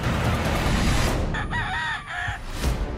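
A fighting rooster crows once, loud and close, at a cockfighting compound with a wide open ground. A dense bed of other roosters and fowl fills the background.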